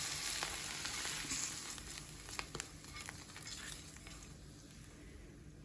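Steady sizzling of mushrooms frying in a pan, a close, continuous crackle with occasional small pops and no voices.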